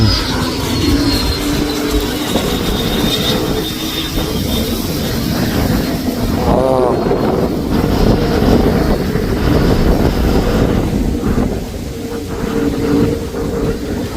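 Steady heavy wind buffeting the microphone during an RC model jet flight, a Freewing MiG-29 Fulcrum with twin 80mm EDF, a loud continuous roar with a faint whining fan beneath it.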